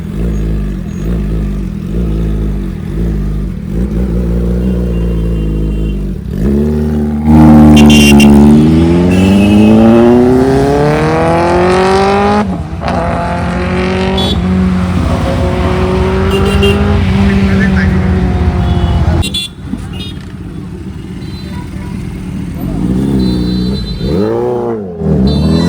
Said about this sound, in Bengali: এবার জয়দেবদার বাইকের সাউন্ডটা ভালো করে শোনো